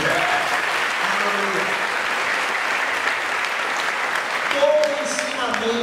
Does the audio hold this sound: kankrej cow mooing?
no